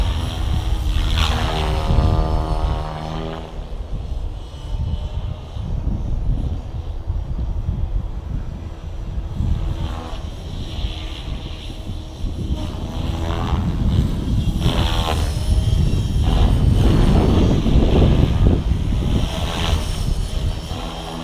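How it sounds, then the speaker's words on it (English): An Align Trex 550 DFC RC helicopter spun up to 2600 RPM head speed whines and buzzes overhead at a flying field, its pitch and loudness rising and falling as it passes nearer and farther. "kick it up into idle up 2. This is 2600 RPM head speed."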